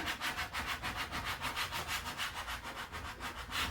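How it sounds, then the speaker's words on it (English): Transfer tape is pressed down onto a handmade Cricut fall farmhouse sign with firm, quick rubbing strokes, a close and even scratchy swishing that repeats rhythmically throughout, with no voices. "Use some pressure when you're rubbing."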